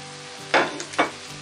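Sliced white onion goes into a hot pan with chicken, giving two sharp bursts of sizzling and stirring over a low steady frying hiss.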